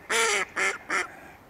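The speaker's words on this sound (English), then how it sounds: "The ducks obviously approve, that's what they're quacking for." Ducks quack on the River Wye, three loud, close, nasal calls in quick succession.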